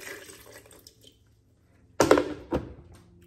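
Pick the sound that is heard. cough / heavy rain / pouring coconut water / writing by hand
pouring coconut water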